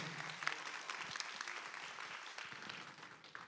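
An audience at a live Mango Punch show in the MATCH Theater claps in a sustained round of applause that slowly fades toward the end.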